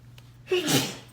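One short sneeze, close and fairly loud, after a brief quiet intake of breath.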